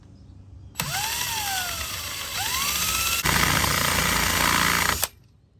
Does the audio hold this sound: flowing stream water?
no